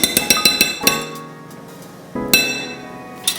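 Sour cream being whisked into cake batter for a chocolate peanut butter cake, heard as a quick run of bright clinks of a whisk against a bowl, then a ringing pause and a second burst of clinking.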